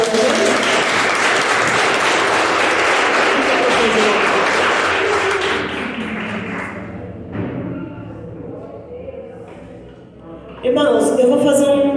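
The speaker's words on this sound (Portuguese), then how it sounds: "Aplauda o Senhor." A church congregation applauds loudly for about five seconds, then the clapping thins out under a voice and quieter sounds before a loud burst of talk or music returns.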